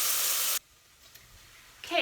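Onion sautéing on high heat in a pan gives a loud, broad sizzle that cuts off abruptly, then a quieter stretch before a hissing sizzle returns near the end, with no voices.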